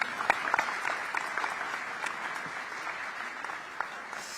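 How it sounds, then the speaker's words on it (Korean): Moderate applause of thanks from guests at a Korean expatriate dinner reception in Singapore, with a few distinct claps standing out early before settling into an even patter that continues steadily to the end. "자유 발언을 해주신 모든 분들께 다시 한번 감사의 박수 부탁드리겠습니다."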